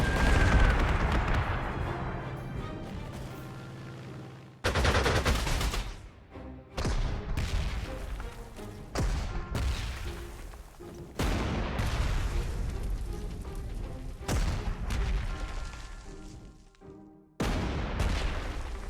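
Artillery fire in the wartime strategy video game Panzer Corps 2, a long run of loud booming blasts and crackling gunfire bursts, several abrupt heavy impacts separated by short gaps, with no talk.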